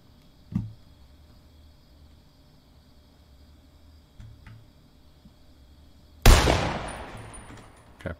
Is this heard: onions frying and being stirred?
no